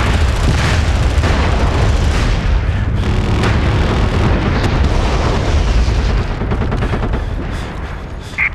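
Artillery shells and bomber strikes pound the battlefield in the video game MAG, a sustained barrage of loud overlapping booms and blasts that rumbles continuously before easing slightly at the end.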